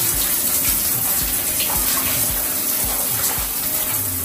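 Water runs steadily from a tap while someone washes with a sponge loop, a loud continuous splashing rush with faint rhythmic rubbing thuds underneath, no talking.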